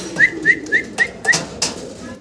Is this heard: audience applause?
no